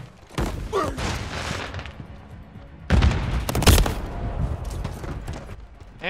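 Heavy gunfire from a big gun in Modern Warfare 3 multiplayer, with loud blasts and clattering bursts in two main clusters, the second stronger, over a busy game background.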